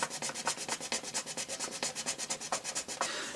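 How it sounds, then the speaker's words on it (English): A hand file rasps steadily on a small cast part of a vintage toy ship, a close, quiet run of quick even strokes with no talk. "I've really just got to sit here gently filing away"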